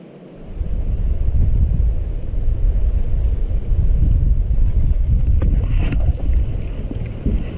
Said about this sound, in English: The wind's blowing. I don't know if this audio is good